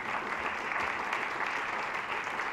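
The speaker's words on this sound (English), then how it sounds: "we do give you a round of applause in appreciation for you." A concert audience at a big band tribute applauds steadily, a dense, even wash of clapping from many hands throughout.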